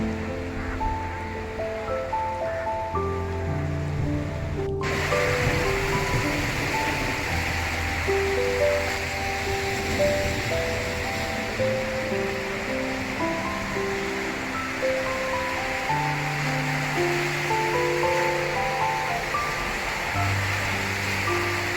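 Sea surf at a rocky hidden beach in Mumbai rolls in as a continuous broad wash of breaking waves, steady and fairly loud, with a melodic music bed running underneath throughout.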